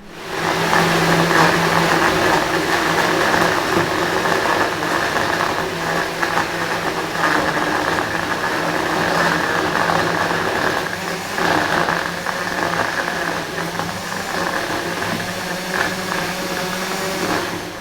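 A kitchen blender whizzes frozen blueberries and honey into a smoothie, a steady, loud motor roar that holds throughout with slight churning variations and no talk over it.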